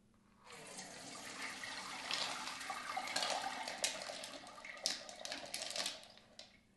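Rocks poured into a colander, giving a dense, continuous rattling and clattering of many small hard pieces with sharper clicks near the end, close and fairly loud, with no talking.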